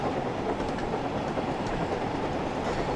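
A train runs steadily in Train Sim World 5's Thomas & Friends content, with a constant loud rumble of rolling wheels and faint rhythmic clicking throughout and no talk over it.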